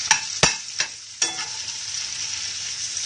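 Onions frying in a pan in batches for steak, a few sharp clinks of stirring at the start settling into a steady close sizzle, no voices.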